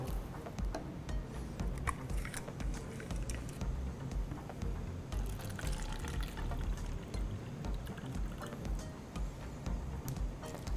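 Water poured from a glass into another glass for a simple classroom experiment, a steady soft splashing and trickling stream lasting throughout at close range, with no talking over it.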